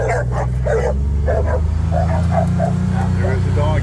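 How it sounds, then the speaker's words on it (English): Dogs bark and yip repeatedly in quick bursts near a running John Deere Gator XUV835M utility vehicle, whose steady low engine drone sits underneath the barking. "There are the doggies."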